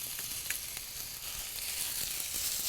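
Ground meat frying in a pan and stirred over and over, giving a soft, steady sizzle with light scraping and clicking from the stirring, fairly quiet, with no voices.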